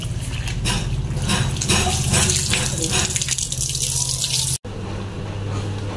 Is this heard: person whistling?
no